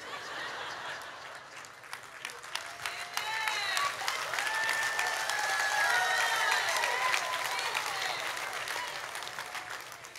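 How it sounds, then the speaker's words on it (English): Women in a church congregation applaud in a sustained round of clapping that swells and fades, with some chuckling and a voice speaking over it. "Only the ladies clapped."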